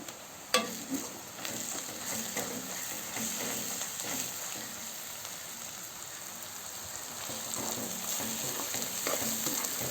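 Chopped onions fry in a pan for an egg, garlic and chilli dish, making a steady close sizzle and crackle that runs throughout, with occasional stirring scrapes.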